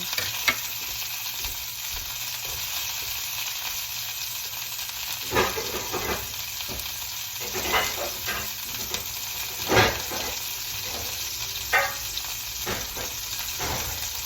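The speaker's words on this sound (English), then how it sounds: "I'm gonna cook this while it's searing" Steady frying sizzle of a pork roast searing, with occasional sharp scrapes and clatters of stirring in a pan, no talking.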